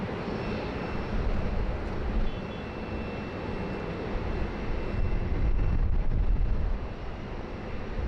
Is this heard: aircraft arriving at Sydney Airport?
yes